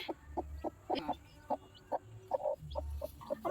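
A hen clucks in a series of short, close, irregular clucks near where she has been laying eggs.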